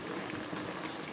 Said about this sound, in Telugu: అర లీటర్ వాటర్, ఇంకా వాటర్ ఎగరనిద్దాం.